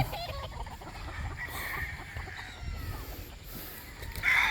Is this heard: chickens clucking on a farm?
yes